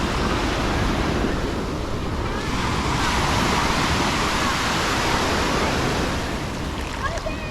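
Ocean surf roars continuously on a beach in Grand Cayman, a broad steady wash of breaking waves with wind buffeting the microphone.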